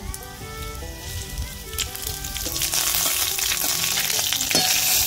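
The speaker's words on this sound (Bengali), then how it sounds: "এবার 4টে শুকনো লঙ্কা ফোড়ন দিয়ে দিচ্ছি, তারপর রসুন দিয়ে দিচ্ছি, গোটা জিরে ফোড়ন দিয়ে দিচ্ছি" Dried red chillies, garlic and whole cumin seeds hit hot oil in a kadai, the sizzle building from a gentle crackle to a loud, dense spitting fry with occasional stirring clinks.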